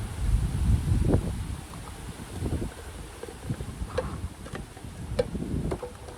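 Strong wind gusting at a fishing pond on an overcast day, a low rumbling buffet against the microphone with scattered small clicks and rustles, loudest at the start.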